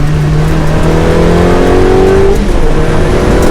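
Ferrari 360 Challenge Stradale engine accelerating hard at close range, a loud continuous rising note broken by sharp gear changes as revs drop and climb again.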